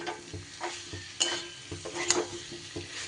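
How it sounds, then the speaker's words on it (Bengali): Fried yam and potatoes are stirred into a sizzling spice masala in a pan. Irregular scrapes and knocks of the spoon sound close over a low, steady frying hiss. "দিয়ে আলু আর ওলের সাথে একটু নাড়িয়ে চাড়িয়ে নিয়ে জল দিয়ে দেব।"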